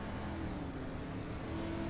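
A dirt street stock race car in iRacing at Weedsport, its engine droning steadily on throttle through the whole stretch, a continuous mid-loud hum with no talk over it.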